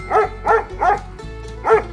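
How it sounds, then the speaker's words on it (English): A dog gives four short barks in a steady rhythm, close and fairly loud, in a farm animal sound series with a constant low background of music. "dog,"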